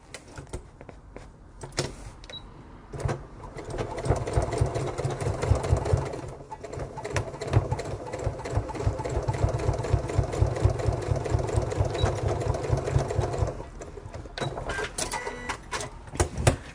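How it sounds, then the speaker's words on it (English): A sewing machine stitching a bag seam, running in a steady close motor whir for about ten seconds after some handling clicks, then stopping and restarting briefly near the end. "I'm going to sew to approximately about 2 or 3 inches down this one side here."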